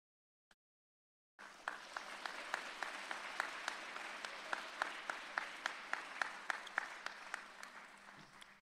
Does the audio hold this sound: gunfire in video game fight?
no